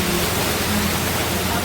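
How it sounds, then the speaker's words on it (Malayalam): Heavy rain pours at Saintgits College of Engineering. A dense, steady hiss runs without a break, with a faint low rumble underneath and no voices. "ഇപ്പം നല്ല മഴയാണ്"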